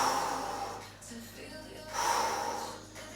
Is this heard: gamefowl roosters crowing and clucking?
no